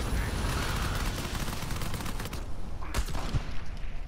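Warlord Adam Baldridge fires at the player in Uncharted 4, a dense run of gunfire with a couple of sharper shots standing out near the end.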